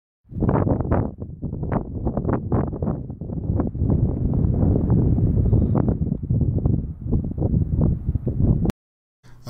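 Gusty wind blowing across rugged terrain along the Fraser River in spring flood, buffeting the microphone in loud, choppy rumbling bursts for several seconds before cutting off abruptly.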